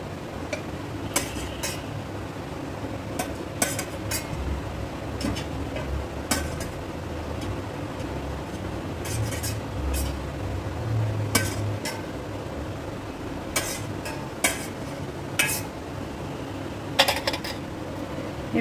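Rasgullas being lifted with a spoon into a small bowl in a kitchen, with sparse sharp clinks of metal on dish scattered over a low background hum.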